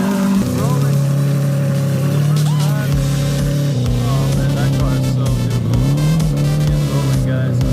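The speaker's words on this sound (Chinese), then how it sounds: "在给电池充了一会儿电后，助手就启动了这辆车。" A damaged Lamborghini Murciélago supercar engine starts up and settles into a loud, steady idle with a brief rev, close by, with voices talking over it.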